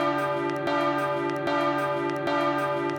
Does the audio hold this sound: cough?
no